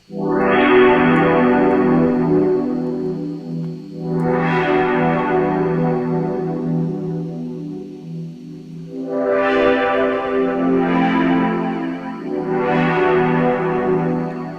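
A sustained, buzzy synth pad played through an Audiomatic Retro Transformer effect swells in four long chords, each fading down gradually, with a gritty, filtered tone and no voices.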